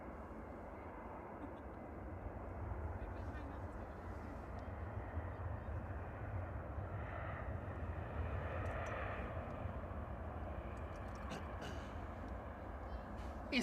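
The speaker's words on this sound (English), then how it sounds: "EasyJet 702 from Belfast" An EasyJet airliner arriving from Belfast at Manchester Airport produces a faint, steady distant engine rumble that swells gently midway, heard from afar with no talking.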